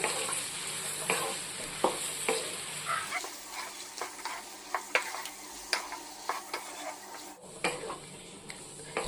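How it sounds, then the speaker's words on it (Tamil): Tomatoes and potatoes are sautéed in oil with salt, a soft sizzle under repeated spoon scrapes and taps against the pan, close and fairly quiet with no speech. "உப்பு சேர்த்து இந்த தக்காளி நல்லா குழஞ்சு வெந்து எண்ணெய் பிரிஞ்சு வரணும், அது வரைக்கும் நம்ம வதக்கிக்கலாம்."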